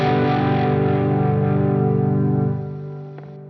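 An electric guitar on a handmade prototype, played through an amp on its bridge single-coil pickup. One loud, distorted chord rings out and slowly fades, heard alone.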